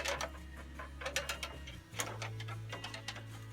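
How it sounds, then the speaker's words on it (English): Circuit breakers are snapped into an electrical main panel, a series of quick, close plastic-and-metal clicks in an uneven rhythm over a steady low hum. "I'm putting my breakers in."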